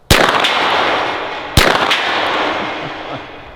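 A Ruger pistol-caliber carbine fires Underwood .45 ACP rounds outdoors at targets: two loud, sharp reports about one and a half seconds apart, each followed by a ringing tail, with no talking.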